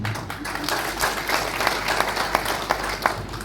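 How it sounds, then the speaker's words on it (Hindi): An audience at a Brahma Kumaris event applauds warmly, a continuous, fairly loud spread of many hands clapping with a few sharper claps standing out above the crowd's steady patter. "एक बार जोरदार तालियां हमारी शिवानी दीदी की लिए देते।"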